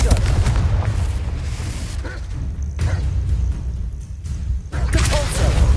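Confringo blasting spell fired in Hogwarts Legacy, a heavy, continuous booming roar of explosions and rumbling blasts, loud and dense throughout with a brief dip near the end.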